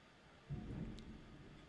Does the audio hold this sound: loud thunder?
yes